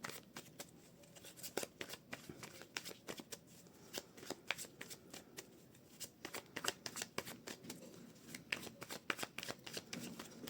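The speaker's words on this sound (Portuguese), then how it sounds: "Gosto de embaralhar bem." Tarot cards are shuffled steadily for about ten seconds, a quiet, continuous run of crisp riffling and flicking snaps close to the mic, with no one talking.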